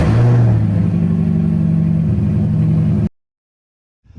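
A C5 Corvette fitted with Callaway parts and straight pipes revs loudly for about three seconds, a deep, close, rumbling exhaust roar that cuts off abruptly into silence before a faint noise returns.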